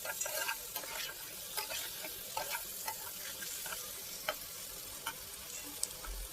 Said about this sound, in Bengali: চর্বি এঁচুর মাংস সবই সুন্দর লাগে তো এইভাবে দেখো নেড়ে চেড়ে নিচ্ছি